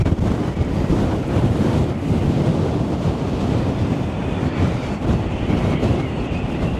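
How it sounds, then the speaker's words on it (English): Strong storm wind on the Blackpool seafront near South Pier around high tide, a loud continuous roar buffeting the microphone with surf churning underneath, no voices. "I hope you can hear the wind absolutely howling"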